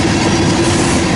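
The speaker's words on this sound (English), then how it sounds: "the end of this train right here" A freight train rolls past close by, a continuous heavy rumble with steady wheel clatter and metallic grinding that fills the whole moment, with no voices.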